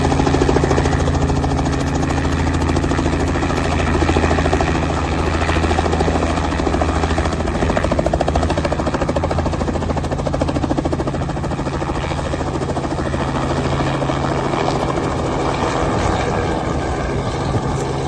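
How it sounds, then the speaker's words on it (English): Steady, loud engine and propeller drone from aircraft at Barton Airport, a continuous close rumble with a low throbbing hum holding evenly throughout, no talking. "Many planes here today"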